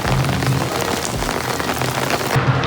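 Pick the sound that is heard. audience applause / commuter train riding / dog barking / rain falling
rain falling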